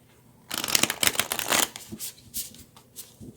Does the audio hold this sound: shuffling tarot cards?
yes